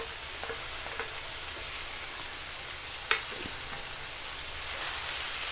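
Chopped tomatoes go into a pan of sautéing onions and vegetables for Schezwan veg fried rice, giving a steady, close sizzle with one sharp clatter midway and no talking.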